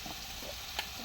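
Potatoes frying with turmeric, chilli powder and other spices in a pan give a low, steady sizzle, with one brief scrape of stirring near the end.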